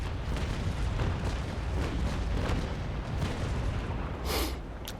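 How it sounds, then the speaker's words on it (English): Ship cannons firing in the naval combat game Naval Action during a Belle Poule duel, a dense continuous roll of booming broadside shots with a sharper burst near the end. "I might as well fire my cannons."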